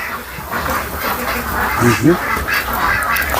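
Ducks call at a farm during morning duck-egg collection. A few short quacks rise around the middle over steady rustling background noise, with no clear talk.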